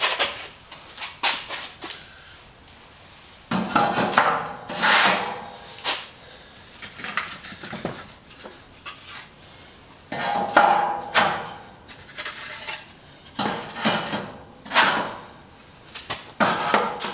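Shelf boards set into narrow shelving behind a furnace, giving a run of irregular wooden knocks, thumps and sliding scrapes at close range, some sharp and hammer-like, spaced unevenly with short pauses between.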